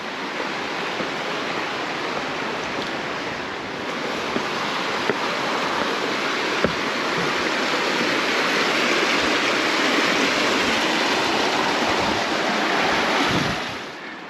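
Steady rushing creek water beside a hiking trail near a small footbridge on the way up toward Glen Falls, a continuous broadband wash that holds close and loud throughout with a few faint clicks and footsteps.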